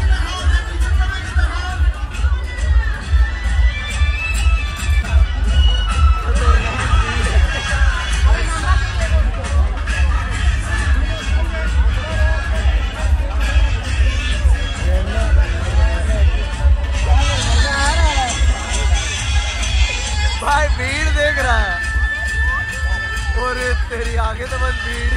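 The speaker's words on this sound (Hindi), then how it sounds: "तेरी आगे तो बस भीड़ ही है, बस भीड़ है भाई आगे तो।" Dense crowd at a Dandiya night, a steady roar of babble and chatter over a constant low rumble with thumping music, lasting throughout, with people talking close by.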